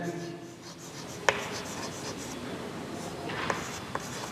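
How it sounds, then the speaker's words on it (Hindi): Pen writing on paper while working a circle-segment geometry problem, a soft continuous scratching with a couple of small taps, quiet and close, in a room with faint background noise. "लिख लेते हैं।"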